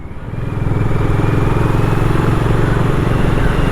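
The engine of a new BSA Gold Star motorcycle runs close and loud, settling within half a second into a steady, even thumping beat that continues without talk.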